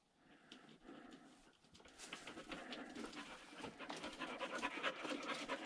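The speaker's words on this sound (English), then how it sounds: "One of those cave dogs." A dog pants steadily inside an abandoned mine in Utah's Drum Mountains, the rapid breaths close and growing louder over the clip, with a hollow, roomy echo around them.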